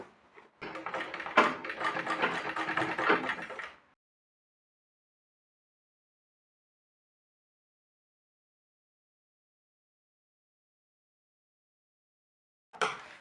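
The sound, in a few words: sewing machine straight-stitching a blouse sleeve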